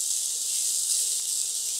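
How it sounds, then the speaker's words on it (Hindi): Onions frying in a tablespoon of oil, giving a steady, close sizzle and hiss that holds evenly throughout with no talking. "एक टेबलस्पून हमें और तेल चाहिए प्याज फ्राई करने के लिए।"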